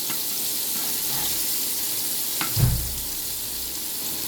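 Shrimp lightly frying in a pan for a Bengali malaikari, a soft continuous sizzle with a low thump and brief scraping partway through.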